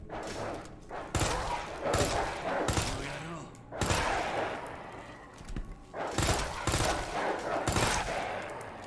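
Machine gun fire from Resident Evil 2, coming in repeated loud bursts of rapid shots separated by short gaps, with game sounds in between.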